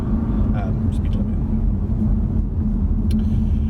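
A Volvo V60 Polestar accelerates on an open road, its engine a steady, loud low rumble with road and cabin noise throughout, heard from inside the car.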